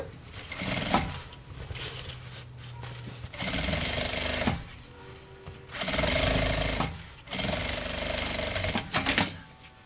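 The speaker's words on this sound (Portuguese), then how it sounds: "levanta o calcador, abaixa a agulha e vira a peça" A sewing machine stitches fabric for a beach bag in several loud, close bursts of rapid whirring with short pauses between them.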